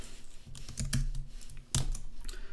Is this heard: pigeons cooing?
no